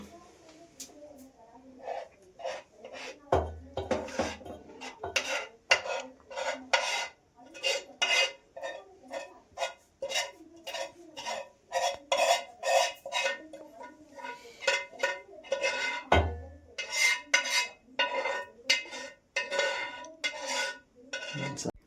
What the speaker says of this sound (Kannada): ಬನ್ನಿ ಇವಾಗ ನಾವು ಮಾಡಿರ್ತಕ್ಕಂಥ ಈ ಹಲ್ವಾನ ಹಾಕೋಣ